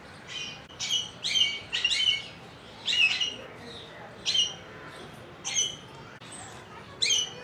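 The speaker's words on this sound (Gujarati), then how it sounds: "નાના પક્ષીઓના પિંજરા છે." Small caged birds at Kankaria Zoo in Ahmedabad chirp in repeated short bursts of high, bright tweets, fairly near, with brief pauses between calls over a low background hum.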